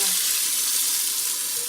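Chicken thighs sizzling in a hot pan as prepared lemon and pineapple sauces go in, a loud, close, even hiss across the whole short moment, with no talking.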